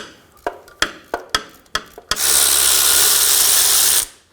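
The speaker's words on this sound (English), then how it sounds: "Using a 14mm socket, we're going to remove the bottom starter bolt." A ratchet with a 14mm socket works loose the bottom starter bolt on a 2013-2017 Honda Accord: six sharp clicking strokes, then a steady whirring rush of about two seconds, close and loud, with no talking.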